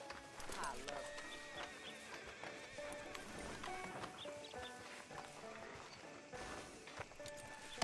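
Horse in the video game Red Dead Redemption 2, hooves clip-clopping and a whinny in a town street under game music, with characters talking over it.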